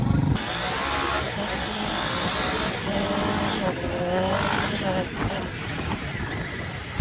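A crosskart's engine running while being driven, a loud, continuous buzzing drone that rises and falls in pitch with throttle, close to the microphone, with no speech.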